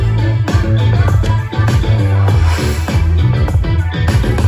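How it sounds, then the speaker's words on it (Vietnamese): Music plays loud and full from a Samsung soundbar, HW-Q630B series, with a steady beat, a strong bass line and layered instruments running continuously without talk. "Đây là tiếng nhạc từ cái loa này ra rồi nhá."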